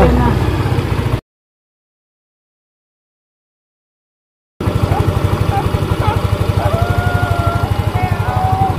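A Yamaha Mio i 125 scooter idling close by, a steady rapid putter with a faint whine above it; the sound cuts out completely for about three seconds, then the same even idle resumes.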